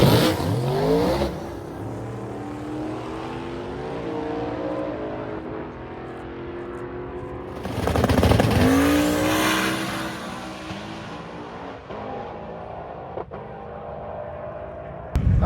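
A drag racing track during Sick Week, with a race car's engine droning and whining steadily. It swells louder around the middle, sounding like a car accelerating past, and then settles back to a continuous roar.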